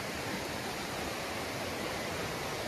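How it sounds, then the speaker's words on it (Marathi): Heavy monsoon water rushes through a stream in a Konkan village, forming a dense, constant roar that stays steady and close with no voices. "वाळाला पाणी बघा, जबरदस्त पाणी आलंय."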